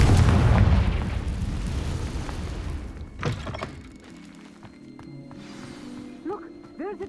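A Confringo explosion spell cast in Hogwarts Legacy bursts as a loud, heavy boom at the start and fades into a rumbling tail, with a second thud a few seconds later and a character speaking faintly afterward.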